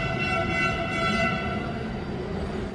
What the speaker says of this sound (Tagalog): Isa ang tren na ito sa 48 Dalian train na gawan China